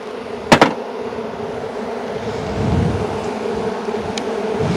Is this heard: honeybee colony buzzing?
yes